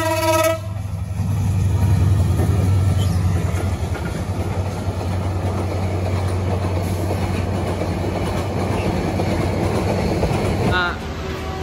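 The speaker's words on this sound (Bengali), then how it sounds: "এখন ট্রেন যাচ্ছে" A train passes close by a roadside in Gazipur, Bangladesh, its horn blaring at the start and then a long loud rumble and clatter of wagons rolling past before fading near the end.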